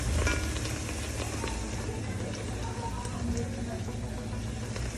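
Steady, close sizzling of Jamaican fried dumplings frying in hot oil in a pot, continuous and fairly loud throughout.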